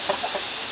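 A chicken in a nest box gives a few soft, close clucks in quick succession over a steady hiss of background noise, very brief.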